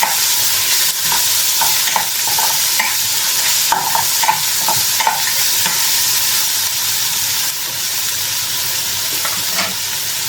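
Vegetables stir-frying for a Chinese-style dish in a home kitchen, with a steady loud sizzle and repeated scraping stir strokes throughout, close up and with no talking.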